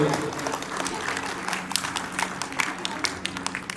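Scattered audience applause at a 25th wedding anniversary celebration, uneven and moderately loud, with a voice speaking over the clapping.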